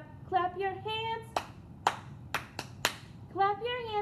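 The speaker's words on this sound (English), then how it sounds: "Clap your hands with me" Hands clap in a children's counting song, five sharp, close claps in an uneven rhythm while a voice sings or talks between and around them.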